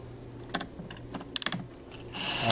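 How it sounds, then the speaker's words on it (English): Short screws are driven into a Rug Doctor pump kit, producing a few sparse, quick clicking and ratcheting bursts, followed by a rising whirr of a driver near the end, close and fairly quiet. "Right now we'll put in the 3 short screws."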